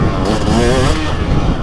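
A 2023 Husqvarna TX300 two-stroke dirt bike accelerating hard, its engine note climbing steadily and loudly at high RPM, close and continuous with no pauses.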